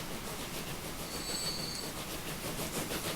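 A larger, faster train runs in the Transport Fever game, giving a steady, continuous rail rumble with a faint high whine partway through. No one talks.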